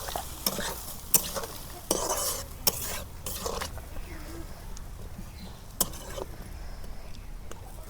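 Tilapia curry with potatoes being stirred in a pan after salt and chilli powder go in, with clattering spoon-on-pan scrapes and a soft sizzle underneath, close by, irregular strokes and brief quiet gaps.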